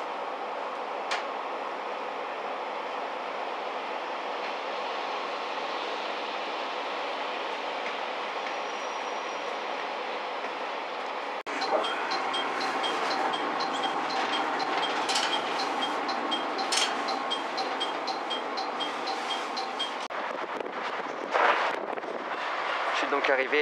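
A Japanese train pulls out of Uwajima station: a steady idle hum gives way to louder rumbling, clattering wheels and a brief squeal as it moves off, with muffled talk in the background.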